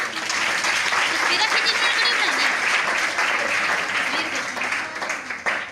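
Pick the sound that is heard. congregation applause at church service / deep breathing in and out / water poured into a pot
congregation applause at church service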